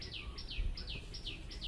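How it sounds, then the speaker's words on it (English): Faint, repeated high bird chirps, each a quick descending note, sounding several times against a steady low background hum. "I heard some birds in the background"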